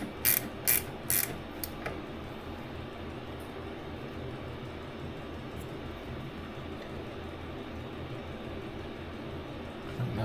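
A ratchet tightens nuts and rubbers on the rear anti-roll bar of a TVR Chimaera: a few crisp close clicks early on, then a steady mechanical background noise with no talking.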